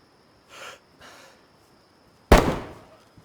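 Two soft breathy puffs are followed by a single sharp, loud gunshot-like bang in the video game DayZ that decays quickly, with a faint steady tone humming underneath.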